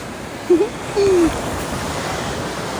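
Ocean surf roars in a constant, heavy wash close by at Nasugbu Beach, Batangas, Philippines, with wind noise and two brief voice sounds early on.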